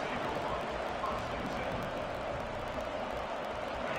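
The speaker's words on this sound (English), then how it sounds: "This crowd ready to make its presence known." A large football stadium crowd roars as a steady, diffuse wash of cheering and murmur at a live game, moderately loud and continuous, with broadcast commentary talking over it.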